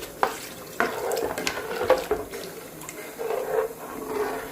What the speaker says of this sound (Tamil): தேவையான அளவு தண்ணி ஊற்றிக்கோங்க